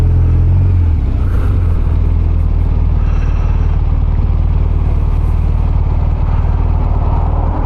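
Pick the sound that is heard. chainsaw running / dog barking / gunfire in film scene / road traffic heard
road traffic heard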